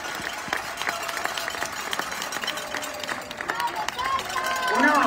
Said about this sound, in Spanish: Un aplauso muy grande a Sara, por favor, se lo merece.